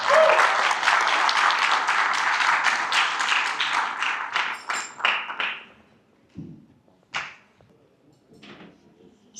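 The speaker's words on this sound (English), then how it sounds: "So with a big round of applause," Audience at a gala iftar dinner applauds to welcome a speaker, dense clapping that thins into scattered individual claps and fades to near silence, with a few last claps.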